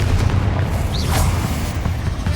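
A Confringo fire spell bursts in Hogwarts Legacy: a loud, booming blast with a rumbling low end that swells and then fades over about two seconds.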